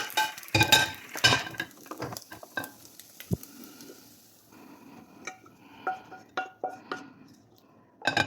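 Fried semiya being moved from a pan onto a plate: a spoon scrapes and clinks against metal and crockery in irregular bursts, with quieter gaps between the clatters, close and fairly loud.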